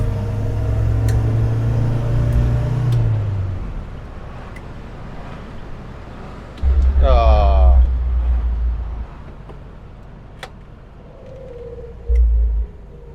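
A 1960 Standard Vanguard Vignale engine rumbles low while driving, easing off for a clunky gear change before pulling again in second, with a brief burst near the end; someone talks over it at times.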